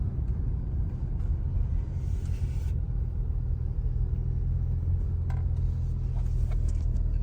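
A new Toyota Land Cruiser towing a load up a hill in Florida, its engine a low, steady rumble at low revs with road noise from inside the cabin, no talking.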